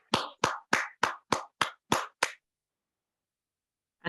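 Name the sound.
applause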